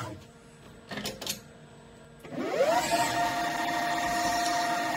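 An Acorn6-controlled DIY CNC lathe parting off a turned part with a rear-mounted 1 mm carbide cut-off blade: a few short clunks, then a motor whine that rises in pitch and holds as a loud, steady drone.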